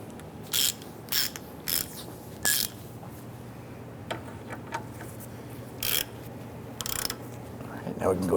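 A hand ratchet tightens the rear sway bar link bolts on a 1995-2001 Ford Explorer, giving short clicking bursts in a steady, close sequence with quieter ticks between them.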